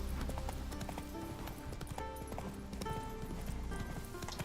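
A horse trotting in The Witcher 3 video game, its hooves sounding a quick, steady clip-clop rhythm close by with tonal background sounds underneath.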